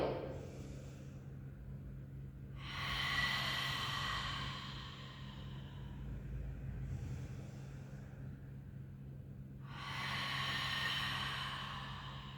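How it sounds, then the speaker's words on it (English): Audible Ujjayi breathing through the nostrils during a warrior yoga flow: two long, soft, airy breaths with a hushed throat-constricted rasp, separated by quieter pauses over a low steady background hum. "Perhaps the breath is still audible, your Ujjayi breath"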